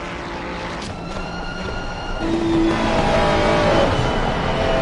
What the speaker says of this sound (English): On board here with Burr Brunei, just listen to the Ferrari 296.